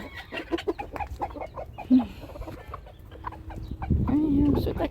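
Several chickens, hens and roosters, cluck and murmur nearby at a country house in the morning, with a sharper squawk partway through and a drawn-out call near the end.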